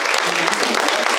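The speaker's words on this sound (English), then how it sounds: "Want to give yourselves an applause." An audience at a disability history symposium applauds itself, a brief, dense burst of clapping from a full room, steady and fairly loud throughout.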